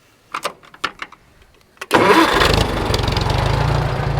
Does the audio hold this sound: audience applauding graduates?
no